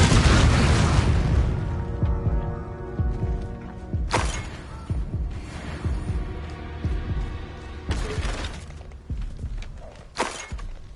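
Explosions from the Confringo spell in the Hogwarts video game: a loud booming blast at the start, followed by several more heavy thuds and bursts spaced over the clip, each decaying into a rumbling ring.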